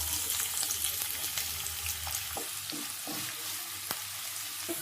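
Chopped onion with mustard seeds frying in a couple of spoons of oil for a mushroom gravy, giving a steady broad sizzle with a few faint utensil taps over the nearly five seconds, with no voices.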